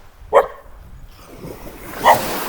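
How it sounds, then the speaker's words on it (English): Two overexcited guard dogs give a pair of sharp barks about two seconds apart, close by and loud, with quiet outdoor background between them. "They're a little bit, well, they're kind of guard dogs. And they're a little bit overexcited, you know."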